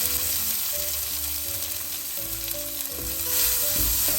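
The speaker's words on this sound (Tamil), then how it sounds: "அடுப்பை நல்லா குறைச்சி விட்டுட்டு இதை நாங்கள் வறுத்தெடுப்போம்" Grated coconut and cumin dry-roasting in a pan over a low flame for a ground fenugreek kuzhambu give a steady, close, soft crackling sizzle with light stirring scrapes throughout; no one speaks.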